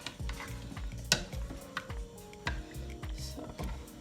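Kimchi fried rice is stirred in a pan, giving repeated rhythmic scrapes and clinks of a utensil against the cookware over a soft sizzle, close and fairly quiet.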